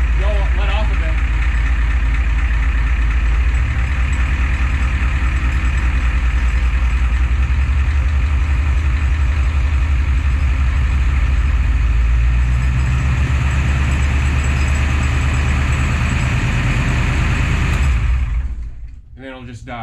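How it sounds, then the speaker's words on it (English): A 7.3 IDI diesel engine idles loud and steady at close range, its throttle linkage pressed and released so the note swells briefly, then the engine cuts off near the end and fades away. "All right, so it's running. I'm just gonna hit the throttle linkage here and then let off of it."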